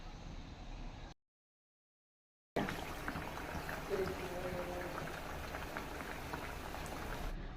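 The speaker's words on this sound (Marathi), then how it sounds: "आता हा पॅटीस तेलामध्ये सोडूया" A bread patty dipped in gram-flour batter is deep-frying in hot oil, giving a steady, dense crackling sizzle. The sizzle breaks off briefly into silence and then resumes at an even level.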